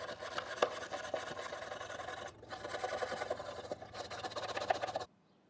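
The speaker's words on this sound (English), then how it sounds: "now that you got it all wire brushed" A wire brush scrubs a metal gutter in preparation for sealant, giving a steady close scraping rasp in two or three strokes with a brief pause midway before stopping abruptly.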